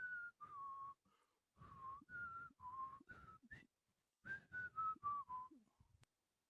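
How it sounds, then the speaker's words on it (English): A person whistles a tune in a series of clear, sustained notes with short pauses between phrases, alone and fairly close, with no talking over it. "And somebody's whistling."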